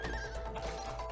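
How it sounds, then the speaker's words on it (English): A horse neighs in the video game It Takes Two, a loud, close whinny lasting about a second over game background sound. "It's a horse."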